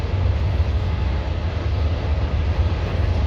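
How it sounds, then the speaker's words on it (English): A passing train makes a steady, loud low rumble that sits close and fills the whole moment without a break or voice over it. "It's a train. We'll just let the train go by."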